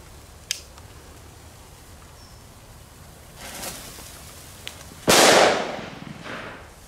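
A Belgian firework is set off outdoors: a loud, sharp bang with a sustained echoing rumble trailing behind it, preceded by a few faint pops and a softer burst, with no talk over it.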